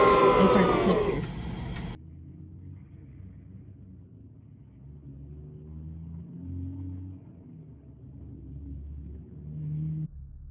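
A car drives just before a crash caused by the driver falling asleep, heard as a low, steady engine and road rumble for about eight seconds after a brief burst of louder sound at the start.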